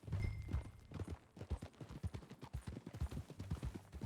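Horse hooves clip-clop at a steady riding pace in Red Dead Redemption 2, a quiet rhythmic series of thuds with occasional faint game sounds.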